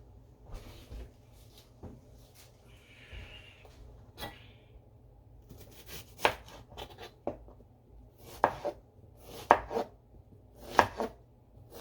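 Knife chopping a red onion on a cutting board, sparse then quickening sharp close taps, quiet overall with faint handling noises between cuts.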